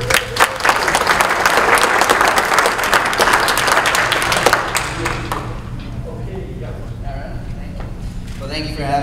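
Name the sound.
audience applause welcoming a speaker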